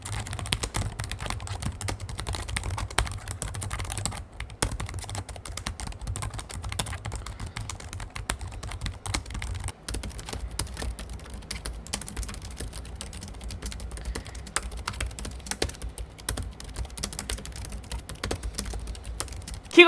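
Typing on a ThinkPad TrackPoint Keyboard II with scissor-switch keys makes a quick, continuous patter of soft, close clicks that run on steadily with only brief pauses.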